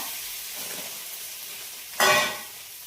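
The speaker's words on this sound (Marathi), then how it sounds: "आधी बटाटे तळून घ्यायची तेलात" Potatoes fry in oil with a steady sizzle, then a louder burst of hissing erupts briefly near the end.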